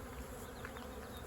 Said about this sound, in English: I'm just going to brush the bees off here